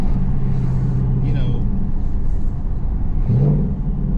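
A Ford Mustang Mach 1 with its resonator deleted and an MBRP X-pipe revs with a deep, throaty exhaust drone, rising twice under passing traffic noise.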